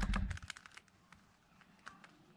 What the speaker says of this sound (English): One thing I do want to mention about this cube is, there's a bit of a clicky sound.